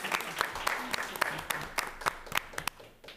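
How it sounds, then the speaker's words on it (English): Attendees at a public library board of trustees meeting give a round of applause, a thin, sparse patter of individual claps from a small group, fairly quiet in the room and tapering off at the end. "Another round of applause."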